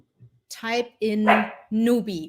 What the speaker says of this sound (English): That's my dog. He's hearing someone.